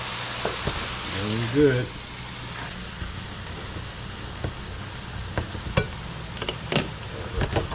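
Wine poured into a hot pan for veal parmigiana sauce gives a brief sizzling burst, then a soft crackle with scattered clinks and stirring taps, while someone speaks briefly.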